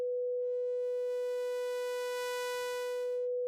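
A bright, buzzy sawtooth-wave synthesizer tone sustains evenly for several seconds, rich in harmonics, alone and without any talking.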